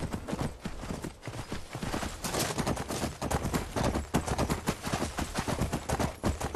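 Rapid, steady clip-clop of horse hooves in Skyrim, a galloping rhythm that stays loud and continuous from start to finish with no talk over it.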